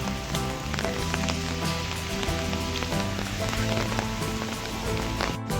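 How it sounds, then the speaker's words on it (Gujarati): Steady, dense rain pattering and drumming on a surface, continuous throughout with scattered drips standing out. "વરસાદ બહાર પડે છે, ધોધમાર."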